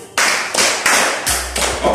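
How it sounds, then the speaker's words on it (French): A seminar audience bursts into clapping, a few loud, close bursts of applause in quick succession, with a low thump toward the end. "Applaudissez pour vous."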